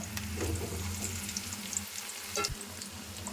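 A potato mixture sizzles and fries in a pan, a steady crackle with a few stirring scrapes, close and moderately loud.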